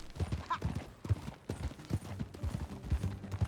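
Horse hooves clip-clop in a steady trotting rhythm in the video game Red Dead Redemption II, close and fairly quiet, with a voice speaking briefly over the hoofbeats.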